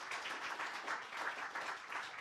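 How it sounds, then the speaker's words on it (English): An audience at a legislative hearing on power grid protection applauds, a soft, steady wash of many hands clapping, heard faint and somewhat distant throughout. "And now a round of applause again for Andrea and Tom and crew"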